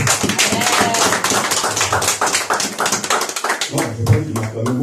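A church congregation claps steadily in praise of the Lord, the sharp rhythmic claps close and bright, with voices carrying along underneath.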